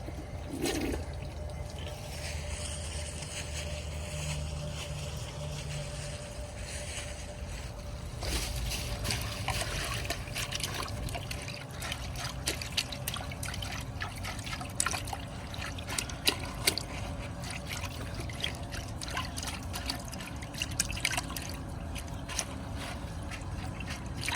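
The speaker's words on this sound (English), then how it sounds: "First, we need to add some water to the bowl." Water is poured into a Briggs Beautyware toilet bowl for a long stretch, running and splashing with a steady rushing sound and occasional sharper splashes.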